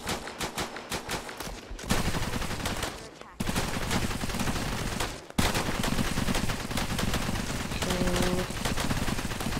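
Bursts of automatic gunfire in the video game Cepheus Protocol, pandemic mode, opening with spaced sharp shots and then swelling into loud, dense sustained firing broken by brief pauses.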